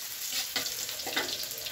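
Water spinach (kangkung) frying in a pan with a continuous close sizzle and a few louder bursts of crackling as it is stirred.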